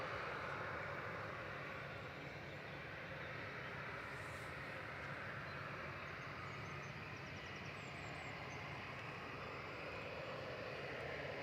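A Singapore Airlines Airbus A350-900 arriving at Manchester Airport, a continuous broad jet roar held at steady loudness throughout, heard from a distance outdoors.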